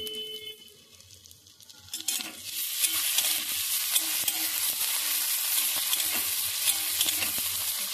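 Onions and chopped tomatoes frying and being stirred in a pan for an egg curry, starting quieter then a steady loud sizzle with scraping stir strokes throughout, no voices.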